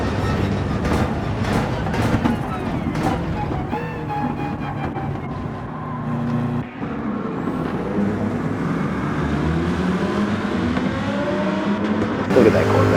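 Race car engines in Gran Turismo 7, including a Corvette, roar and whine continuously as the cars shift and accelerate, close and loud, with a commentator speaking over them.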